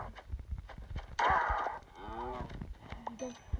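Cows mooing in the Minecraft video game, a loud drawn-out low moo near the start followed by a second quieter moo, with game sounds around them and no talk.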